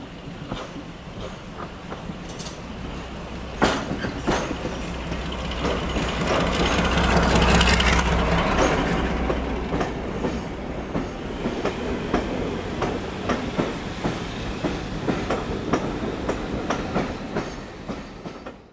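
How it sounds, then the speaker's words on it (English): Class 42 Warship diesel-hydraulic locomotive D821 Greyhound passing near the former Groombridge Junction, with a rising Maybach engine roar and rhythmic wheel clatter that peaks as it goes by and then fades into continued rail noise. "D821 Greyhound heads for Erridge"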